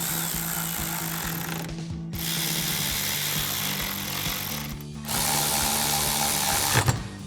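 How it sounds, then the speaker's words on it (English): A 10 millimeter socket tightening the headlight mounting bolts on a Toyota 4Runner gives a steady close mechanical whir with ratcheting bursts, broken by two short pauses. "Tighten them all down with our 10 millimeter socket."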